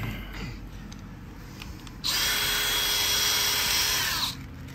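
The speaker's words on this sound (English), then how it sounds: "And we'll grab our drill." A handheld power drill with a 1/8 bit bores into metal during a motorcycle swing arm extension install, one loud high-pitched whirring burst of about two seconds amid quieter garage background.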